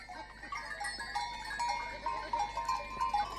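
Goats turned out onto valley pastures bleat faintly at a distance, several overlapping calls in an open outdoor setting, with no talking.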